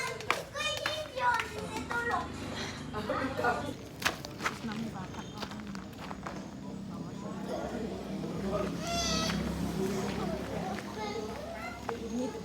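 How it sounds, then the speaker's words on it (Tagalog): Children playing and chattering outdoors at night near a fish grill, a busy mix of kids' voices, claps and footsteps at moderate distance, with adult talk over it throughout. "may mga bata maingay po sa amin"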